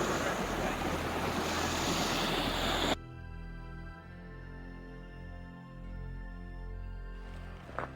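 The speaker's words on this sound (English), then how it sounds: "Not too bad of a stream crossing." A creek flows at a stream crossing in Zigzag Canyon on the Timberline Trail, a loud broadband rush for the first few seconds that then drops away to a quieter, tonal background.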